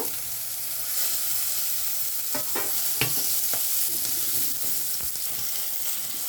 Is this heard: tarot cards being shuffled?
no